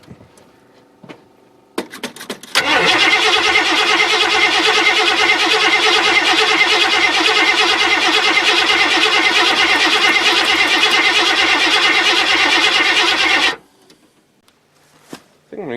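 A Ford Granada engine cranks steadily for about eleven seconds without catching, a loud continuous starter churn that begins abruptly and stops dead, with a few clicks and quieter handling noises before and after.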